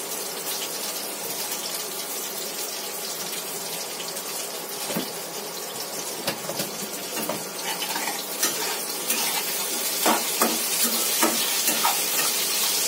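Panch phoron whole spices dropping into a hot pan of oil after fried fish, potato and cauliflower, giving a steady crackling sizzle with scraping stirs, growing slightly louder toward the end; no one talks.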